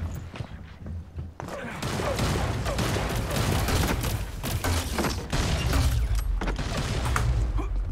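Rapid gunfire from weapons in the video game Hyper Scape, dense bursts of loud shots rattling continuously with brief gaps, close and intense.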